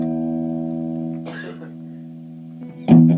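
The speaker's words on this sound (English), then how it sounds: "That's with the distortion pedal, but with a little bit of delay in there." Taylor electric guitar through a distortion pedal with a short delay, sustained chord ringing steadily and fading, followed by a brief burst of picked notes and a fresh strummed attack near the end.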